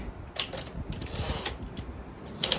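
Keys clack on a freshly repaired typewriter, a run of quick, uneven mechanical taps and strikes at moderate volume against a noisy background.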